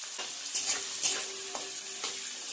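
Mixed vegetables such as cauliflower, carrot and beans are stirred and fried in a pan for chowmein, with a soft continuous sizzle broken by a few light scraping stirs, close and fairly quiet, with no talking.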